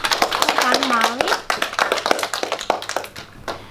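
Classroom audience claps for a primary school student's presentation, a short burst of small-group hand claps with voices overlapping.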